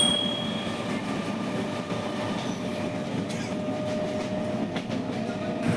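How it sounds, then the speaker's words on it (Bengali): A passenger train runs steadily on its rails with a continuous rumble and faint clickety-clack of the wheels, sounding from a window seat inside the carriage with no talking. "ট্রেনের জানলার ধারে বসে ভিডিও করছি।"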